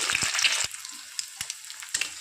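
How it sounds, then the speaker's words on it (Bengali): Eggs frying in hot oil give a steady close hiss broken by sharp pops and spatters, loudest at the start and then settling to a lighter crackle with occasional crisp bursts. "এরকম করে বাদ বাকি ডিমগুলো আমি ভেজে নেব"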